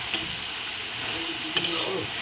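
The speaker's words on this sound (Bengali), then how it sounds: "ভালো করে নেড়ে নেব।" Freshly washed Malabar spinach fries in a pan while it is stirred. A steady close sizzle is broken by a couple of brief utensil clinks near the middle, with no talking.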